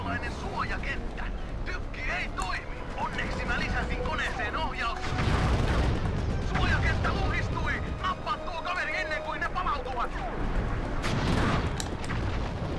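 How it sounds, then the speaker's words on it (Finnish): In the Sly 3 video game, a biplane launcher cannon fires repeated booming shots with blasts and explosions in rapid, loud bursts, heard under someone talking over the game action. "Niin tämä on se kaksitason laukaisin."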